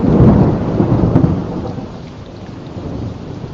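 A thunderstorm in the greater New Orleans area: a loud, rolling peal of thunder booms at the start and slowly fades, with steady heavy rain hissing underneath throughout.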